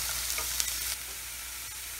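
Onions sautéing in a pan with a little salt, a steady close sizzle with faint scraping touches, even and unbroken throughout.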